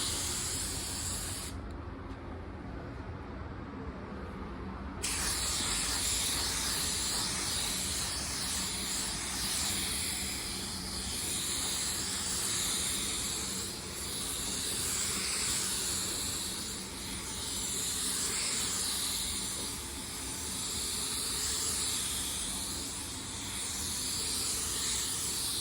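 Spray gun laying down a wet coat of automotive basecoat on a prepped panel, a loud continuous airy hiss that swells and eases in slow passes, close up with no talking.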